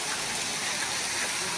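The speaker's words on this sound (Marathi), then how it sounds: "आणि असा धबधबा बघा किती भारी आहे" A waterfall near a Hanuman temple at Dhareshwar, heard as a steady, dense roaring rush of falling water with no breaks, filling the whole clip evenly.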